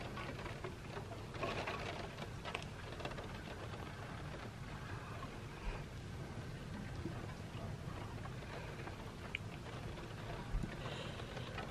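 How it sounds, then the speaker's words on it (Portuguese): Heavy rain falls steadily outdoors during a wintry Christmas-season day, a dense, even hiss of drops with no talking over it. "porque tá chovendo muito"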